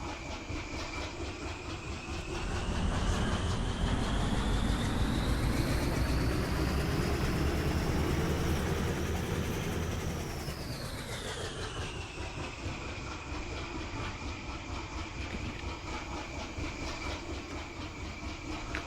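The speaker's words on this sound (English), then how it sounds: "Let's just listen to the engine." A diesel locomotive engine in the Derail Valley train game runs in a steady, loud drone that swells as the engine revs up, holds, then eases back down to a lower steady hum, with no talking.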